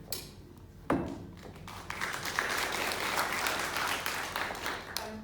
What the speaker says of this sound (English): I think probably everybody's actually clapping you